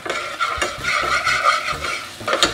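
Onions fry in a pan for a sardine and tomato sauce dish, a close, loud sizzle with spatula scrapes and stirring clatter as they are spread out across the surface.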